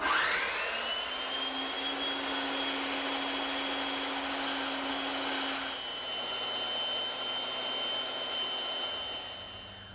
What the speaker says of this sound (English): So I'm just going to take my time back at the bandsaw.